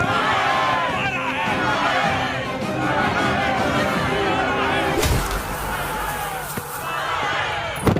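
An agitated crowd of villagers shouts and clamors together in a dense, continuous roar of voices, with a sharp thump near the end.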